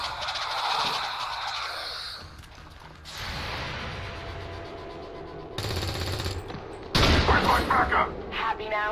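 Shotguns fire in the video game XCOM 2 Long War, with bursts of layered gunfire and mechanical clatter in several separate sections, some louder blasts near the end, alongside game noise and a voice.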